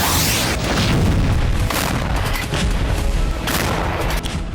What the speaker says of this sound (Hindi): कीव में मिसाइल हमले से कई धमाके हुए हैं।